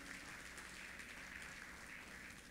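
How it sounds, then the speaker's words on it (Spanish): A church congregation at a Sunday service applauds for the Lord after the sermon, a very quiet, distant spread of clapping that stays even, with a faint hum underneath. "Dale un aplauso al Señor por la palabra."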